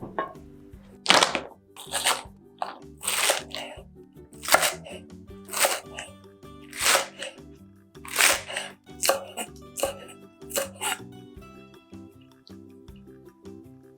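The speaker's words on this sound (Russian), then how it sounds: "Берем и нарезаем небольшой пучок ароматного зеленого лучка." A knife chops a small bunch of fragrant green onions on a board in a home kitchen, about a dozen crisp, separate strokes in an uneven rhythm, close and clear with soft quiet gaps between them.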